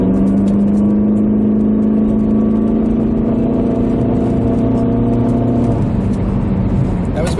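A stock car engine revs and climbs through the RPM range, loud and close, then drops off as the gear changes near the end, with a voice speaking over it.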